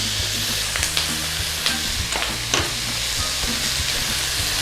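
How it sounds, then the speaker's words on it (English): Onions and garlic frying gently in a pan, a constant even sizzle and hiss with a low hum beneath and a few faint stirring clicks, no voices. "we're just trying to cook off a little bit of rawness from this onions and this garlic"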